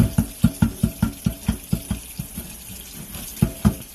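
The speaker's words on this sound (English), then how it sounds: "I'm going to turn the water on." Tap water runs into a large pot being restored, drumming in a quick series of short, fairly loud splashy bursts that pause briefly and then resume near the end.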